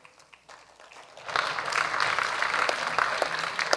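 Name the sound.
audience applause during talk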